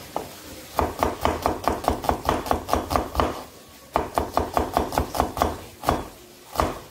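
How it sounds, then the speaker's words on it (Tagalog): A knife cuts onions thinly for ginisang ampalaya, with a steady run of close, sharp slicing taps on a board, a short pause, then another fast burst of even strokes with no talking. "Slice-slice lang yung sibuyas."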